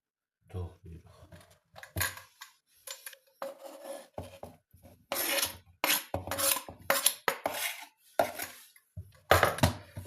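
Boiled eggs are cut on a board for crab salad, giving a busy run of scraping knife strokes and clinking utensil sounds near the listener, irregular and steady for about ten seconds.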